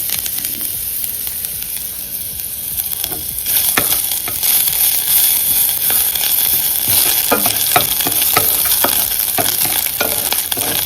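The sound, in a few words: frying lentils and grated ginger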